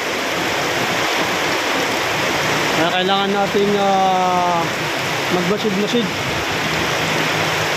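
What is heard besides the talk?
heavy rain on a farm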